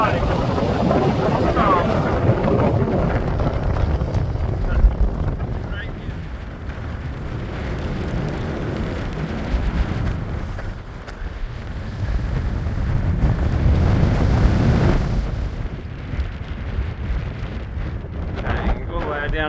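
Strong wind gusting across an exposed mountain top on a tramp in the Kaimanawa range above Taupo, a loud, continuous roar buffeting the microphone that swells and eases over about twenty seconds.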